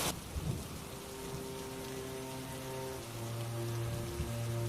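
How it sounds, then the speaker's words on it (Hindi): Heavy pouring rain hisses steadily over fields, a dense close wash of noise with faint low rumbling beneath it and a sharp onset at the start, no voices. "तुरंत आसमान में बादल घिर आते हैं और तेज मूसलाधार बारिश होने लगती है"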